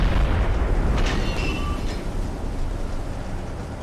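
A submarine deck gun fires in the Silent Hunter 3 naval video game, a loud boom that fills the opening second and then trails into a long rumbling decay under steady low background noise.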